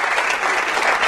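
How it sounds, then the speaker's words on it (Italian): Applause from a crowd at a celebration for the Teramo Calcio football club, a loud, continuous dense clapping that fills the whole short moment. "al quale fa un applauso"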